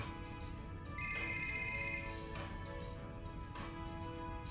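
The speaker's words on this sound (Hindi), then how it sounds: "किसका फोन हो सकता है?" A phone ringtone plays in a steady electronic tone pattern, moderately loud over a constant background hum, with no voices.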